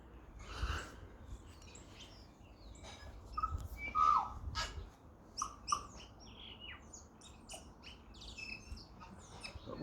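Tui birds call in a garden: a busy run of sharp chirps, whistles and squawky notes comes in scattered bursts over ten seconds, fairly close and clear, with no talking.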